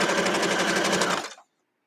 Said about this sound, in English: I decided to make a block of scraps and I just start sewing them together.